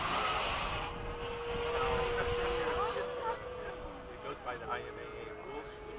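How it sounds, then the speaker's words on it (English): 90mm Hawk radio-controlled jet making a fast pass, a whining turbine drone with a steady tone that shifts pitch as it flies by, heard over a voice talking throughout. "Okay, I'm doing a fast pass, Frank."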